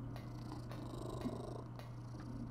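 A house cat purrs quietly and close by, a low steady rumble pulsing in an even rhythm from start to finish with no talking.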